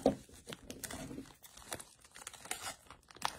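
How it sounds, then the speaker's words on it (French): Plastic packaging from a monthly Paper Pumpkin card-making kit is cut open with scissors, giving a close run of crisp crinkling snips and rustles at a quiet level, with no talking. "Donc, ça prend une paire de ciseaux pour ouvrir ça."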